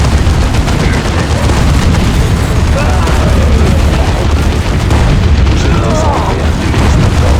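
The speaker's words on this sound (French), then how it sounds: "Utilisez une grenade." Loud, dense battle noise from Dawn of War 2: grenade blasts and heavy gunfire with booming impacts pile up continuously, filling the whole stretch without pause.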